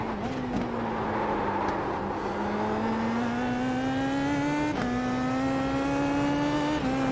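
A race car on the Nordschleife accelerates hard through the gears, its engine note climbing steadily with two quick upshift dips, loud and continuous from inside the car.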